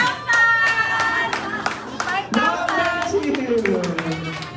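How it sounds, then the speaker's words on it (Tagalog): Guests at a child's first birthday party clap in quick bursts and cheer for a team, with voices and children talking and shouting over the applause nearby. "isang malakas na palakpakan at hiyawan sa team"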